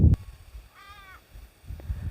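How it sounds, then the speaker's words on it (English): A single crow caws by an Australian river in summer, a short harsh call in the middle of an otherwise quiet outdoor scene with light rustling at the edges. "And the crows are cacoring at you."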